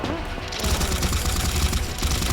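Gunfire in the video game Combat Master comes as a loud, rapid burst of automatic shots, dense and continuous across the whole moment, with no voices over it.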